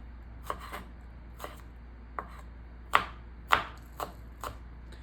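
A knife slices thin rounds of chive bulb on a cutting board, giving about eight crisp taps at an uneven pace. Two of them land harder and sharper, all close and clear over a faint steady hum.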